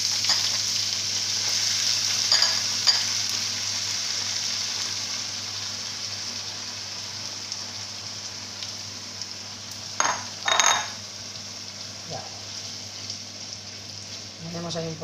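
Artichokes and egg frying in very hot oil give off a steady, bright sizzle for the whole stretch, with a few clinks of utensils and pan handling partway through.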